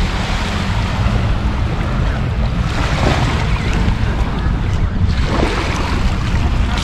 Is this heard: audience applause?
no